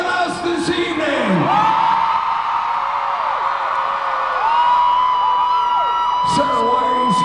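A concert crowd at a show screams, whoops and cheers loudly and continuously, with shrill voices rising and falling and overlapping throughout.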